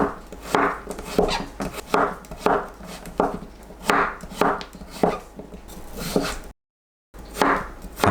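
Zucchini halved and onion being sliced about 0.5 cm thick with a knife for a Korean canned-tuna gochujang stew, with steady rhythmic chops against a board, close and fairly loud, then a brief pause before more cuts.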